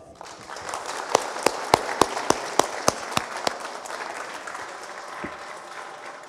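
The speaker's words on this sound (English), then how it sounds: "Nice round of applause." Audience applause welcoming a guest speaker at a creature design event, with a dozen sharp, distinct claps standing out near the microphone over a lighter, spread-out crowd clap that thins and fades toward the end.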